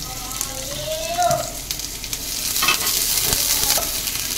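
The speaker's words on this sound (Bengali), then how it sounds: "তেল গরম হয়ে গেছে, তেলের মধ্যে দিয়ে দেবো আমি এখানে পেঁয়াজ ছোট ছোট কুচি করে নিয়েছি, কাঁচা লঙ্কা আর আদা, এটা ঢেলে দেবো।" Chopped onion, green chili and ginger sizzle steadily in hot mustard oil, with the scrape and clatter of stirring through the frying hiss and no talking.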